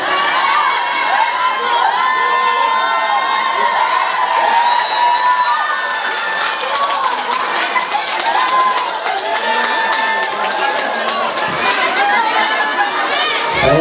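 A live audience at an Indonesian preaching event shouts, whoops and cheers loudly and without pause. Chatter, scattered claps and children's shouts fill the dense roar.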